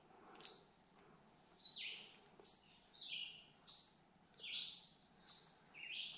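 Forest birds in Killarney, Canada, chirping in a repeated series of bright, fairly close calls at roughly even intervals over a quiet background, with no talking.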